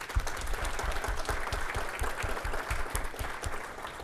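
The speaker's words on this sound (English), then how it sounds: "please join me in giving them a round of applause" A seated audience at an industry workforce-development event applauds, with steady, dense clapping that holds evenly throughout and no voices on top.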